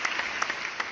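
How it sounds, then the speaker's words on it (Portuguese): Quick burst of audience applause greeting an orchestra as it walks on before a Paganini concert, a dense patter of many hands clapping at moderate distance, lasting under a second. "A orquestra entrou e foi aplaudida."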